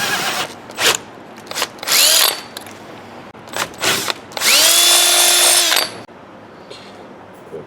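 A power drill bores holes for mounting dual electric cooling fans, heard as several short, loud bursts of motor whine with the pitch rising as it spins up, followed by one longer sustained run, all up close.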